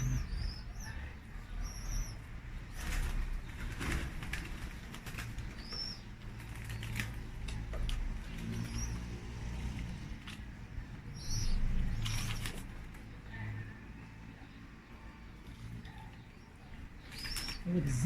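Ornamental pigeons coo softly in a loft amid rustling, fluttering wings and a busy low background, with people talking throughout.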